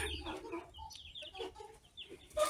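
Arab chickens clucking in a small backyard flock, a mix of short soft clucks and brief higher calls, close and moderately loud with a sharper burst near the end.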